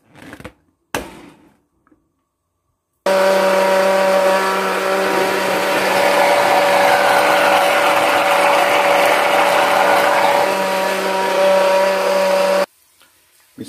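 A blender grinds garlic cloves with salsa ingredients, a loud, steady motor whir with a constant whine that runs about nine seconds after a few brief clicks and knocks.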